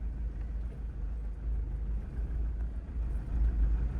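A car engine idles and rises only slightly as the accelerator is pressed gently, giving a steady low rumble with no sharp revving.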